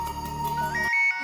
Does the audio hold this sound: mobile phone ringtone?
yes